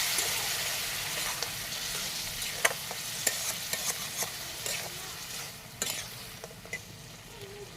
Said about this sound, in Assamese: মই কম কমকৈ পানী দি দি ভাজি ল'ম।